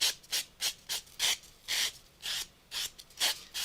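Sandpaper rubbed back and forth over a recycled craft piece, about a dozen short, even rasping strokes in a steady rhythm, close and fairly quiet with no talking.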